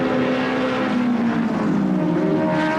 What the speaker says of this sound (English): Now close it up with the horsepower coming into play with the Ford Sierra over the hill and down now to Yokohama corner.